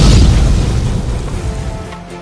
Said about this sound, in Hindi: एक जोरदार धमाका हुआ।